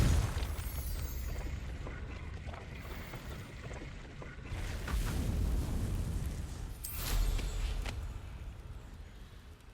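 A Confringo fire spell explodes in Hogwarts Legacy, giving loud booming bursts with a rumbling tail, the biggest around the middle and near the end, over a steady low game ambience.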